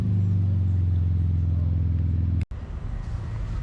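Porsche GT2 RS pulling up at a cars and coffee meet, a steady low engine rumble near and fairly loud, cut off by a brief dropout before quieter idle and ambient noise resume.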